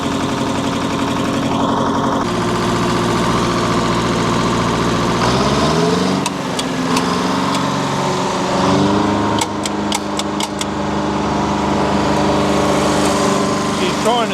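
A two-stroke diesel-electric earthmover engine runs steadily and loudly up close, holding a rough, droning idle and shifting pitch partway through, with a few sharp clicks above it.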